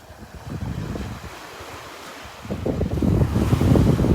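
Steady wind gusting across a beach in North Naples, Florida, roaring loudly into the microphone with a broad rushing texture that strengthens toward the end, no voices present.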